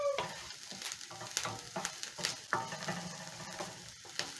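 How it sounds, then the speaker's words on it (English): Garlic cloves sizzling in a frying pan while cooking a fish stew, a quiet steady frying hiss with light crackles and occasional soft utensil taps, no talking. "I'm going to add my 3 cloves of garlic"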